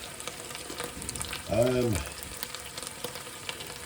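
A curry sauce from a jar, with a cinnamon stick added, sizzles softly in a pan as it is stirred, a steady low frying hiss running throughout with one brief tonal scrape partway through.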